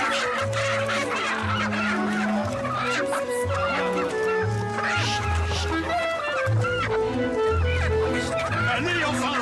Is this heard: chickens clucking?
yes